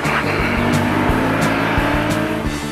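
Stillen Ford GT rally car on a Targa rally stage, engine roaring steadily and close with rhythmic gear shifts and tire noise as it weaves through a slalom, no talk.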